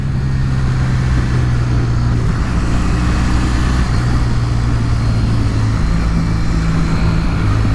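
A 2020 Kawasaki W800 motorcycle engine runs steadily with a deep, even drone and constant low rumble, close and loud with no talking.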